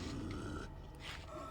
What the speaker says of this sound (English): someone's growling at me and I don't like that